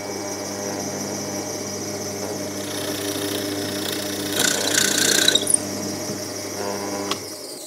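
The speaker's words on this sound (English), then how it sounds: "And there's that countersink," A Famag countersink cutter drilling a countersink in a workpiece in a workshop, with a steady motor hum throughout and a brighter, harsher cutting burst in the middle before the drill winds down.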